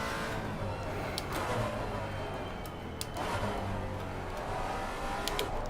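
Maserati GT4 race car engine in Assetto Corsa Competizione, a steady, loud, continuous drone with rising and falling revs through braking for a tricky corner, a voice talking faintly underneath.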